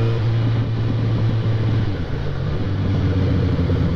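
Yamaha XJ6 motorcycle engine held at about 4000 rpm, a steady loud drone with a low, even hum throughout, running continuously with no voices.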